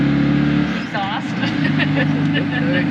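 Citroën 2CV exhaust and engine running steadily with a low, buzzy drone throughout, close and fairly loud, while people talk over it.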